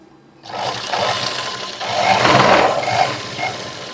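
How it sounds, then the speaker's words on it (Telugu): A sewing machine stitching the main cloth of a long frock runs in a close, steady mechanical whirr that starts abruptly and swells slightly midway, with no talk. "ఇలా మెయిన్ క్లాత్ని కుడుతున్నాను"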